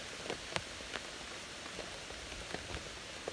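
Rain falling steadily during a severe thunderstorm on the Appalachian Trail, a constant hiss with scattered drops striking close by on a tent rain fly or hammock, and no voices.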